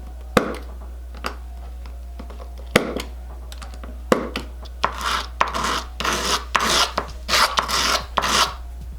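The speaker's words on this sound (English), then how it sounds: "I'm going to use this blade to try and shave off a little bit more to make a true heart shape." A blade shaving and rasping at a small handmade heart-shaped piece for an anniversary gift: close, scratchy scraping strokes in irregular bursts, growing quicker and denser toward the end, over a low steady hum.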